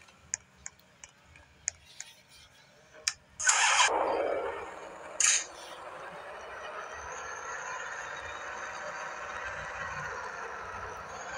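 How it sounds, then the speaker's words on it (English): A car engine starts in the Roblox game Police Car Dealership Tycoon: several sharp clicks come first, then a loud cranking burst, a brief second surge, and a steady engine hum that settles and continues. "Let me start my engine."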